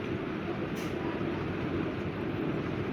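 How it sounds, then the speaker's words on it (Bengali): A metro train at a station gives a loud, steady low rumble and hum that fills the whole stretch, with a brief higher squeal near the start. "আর 1 মিনিট পরই আমরা এই স্টেশন থেকে এই ট্রেনে উঠবো উত্তরা যাওয়ার উদ্দেশ্যে"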